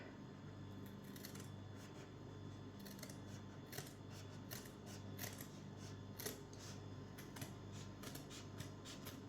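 Scissors snip through felt while a felt crown is cut out, a run of short crisp cuts repeating steadily over a low constant background hum, close by and fairly quiet.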